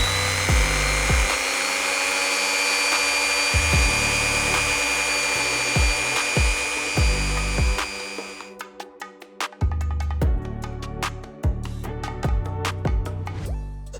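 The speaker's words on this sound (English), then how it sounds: "I'm just going to grind the end a little bit." A small high-speed grinding tool whines steadily as it grinds the end of a snapped acupuncture needle for miniature sculpture work, then breaks into a run of sharp clicks and taps near the close.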